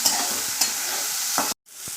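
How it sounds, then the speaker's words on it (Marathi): Radish pods roasting in hot oil in a pan: a steady bright sizzle with a few soft scraping stirs, close and loud, cutting out abruptly for a moment before the frying resumes. "यामध्ये तेल वापरायचं आहे आणि डाग पडोपर्यंत शेंग आपली भाजायची आहे"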